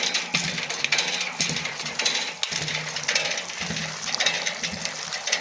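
An old hand pump in the courtyard of a 75-year-old village mosque in Pakistan is worked to draw water, giving repeated close metallic clanks and creaks in a steady, loud pumping rhythm.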